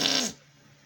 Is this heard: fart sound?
yes